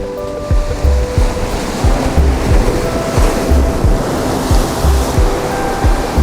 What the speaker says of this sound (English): It's just really, really windy out here.